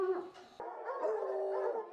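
Tracking dogs from an anti-poaching unit in Kruger National Park, South Africa, howl loudly and close by, with drawn-out wavering cries broken by a sharp bark-like break partway through. No talking.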